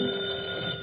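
A telephone bell rings in an old radio comedy show, one brief continuous electric ring heard alone and close.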